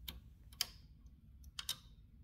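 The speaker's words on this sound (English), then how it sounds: "So now the typing bar hits the book with the other character, the majuscule." A 1930 Underwood Elliott-Fisher book typewriter strikes its typing bars against a book, giving about five sharp metallic clacks, some single and some in a quick cluster, set against a quiet background.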